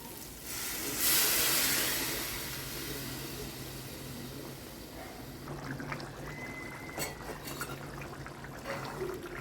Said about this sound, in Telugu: ఇప్పుడు వాటర్ వేస్తున్నాను.